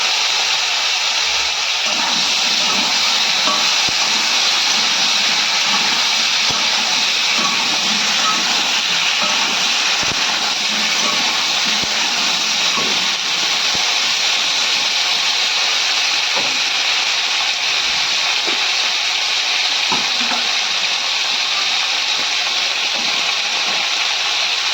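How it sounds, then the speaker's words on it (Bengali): Potato, beans, eggplant and pumpkin frying in a pan give a steady, loud sizzle and hiss with scattered crackles throughout, no talking. "এগুলো আমি এবার দিয়ে লাল লাল করে ভাজবো।"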